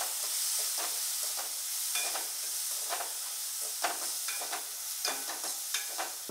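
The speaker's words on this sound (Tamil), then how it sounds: "தேங்காயும் போட்டு கொஞ்சம் வதக்கிக்கலாம்." Grated coconut sautéed in a pan for Tamil-style egg curry, with a steady hiss of frying broken by repeated scraping stirs of a spoon against the pan, close and moderately loud, with no talking.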